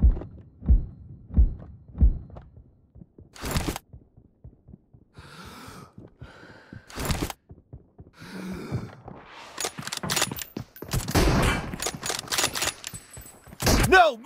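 Gunfire in the mobile battle-royale game PUBG Mobile, including an M24 sniper rifle: a series of sharp, loud cracks spaced across the clip, with soft thumps early on and busier mixed bursts toward the end.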